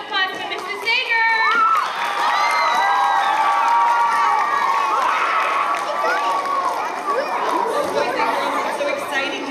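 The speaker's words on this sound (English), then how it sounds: "I want you to give a big round of applause to Mrs. Sager" School children in a gathering cheering, shouting and chattering excitedly at close range, a loud continuous crowd roar with high voices rising over it and little distinct clapping.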